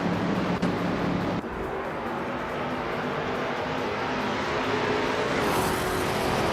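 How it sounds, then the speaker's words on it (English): Race cars including a 1970 Chevrolet Camaro Z28 run flat out, producing a continuous loud engine roar with a sharp passing burst near the start, with no talk. "Bocchizero is leading the race in a classic 1970 Chevrolet Camaro Z28."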